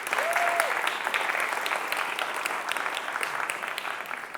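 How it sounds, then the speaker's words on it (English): An audience claps steadily throughout, a dense, even patter of applause from a sizable crowd with a faint voice briefly heard under it. "So a round of applause for him"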